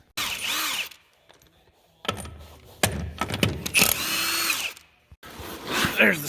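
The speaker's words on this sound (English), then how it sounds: "bolt the tire to the spacer." A power tool drives bolts fastening a tractor tire onto a wheel spacer, with a whirring, ratcheting run, a pause, then repeated shorter bursts, loud and close.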